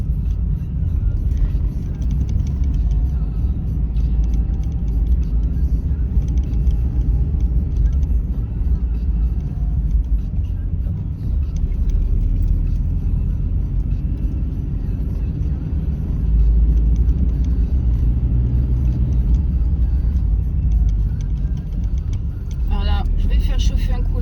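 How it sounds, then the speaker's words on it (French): A car engine that has just been started labors with a loud, steady low drone from inside the vehicle, while a voice talks over it throughout. "Oh là, c'est pas génial comme bruit ça. C'est le moteur râler."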